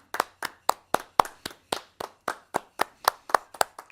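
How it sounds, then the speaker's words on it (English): A single person clapping slowly and evenly, about fourteen crisp, separate claps in a steady rhythm, close and fairly quiet with no voices. "Round of applause."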